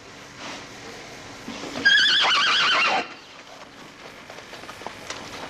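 A single young horse at a stud farm whinnies loudly for about a second, a shrill wavering neigh, amid quiet outdoor ambience and faint hoof sounds.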